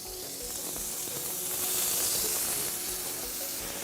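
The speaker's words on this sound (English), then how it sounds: "get this bacon sizzling on them" Bacon sizzles steadily on pellet grill grates beside elk skewers outdoors, a continuous close, bright hiss and crackle with no talking over it.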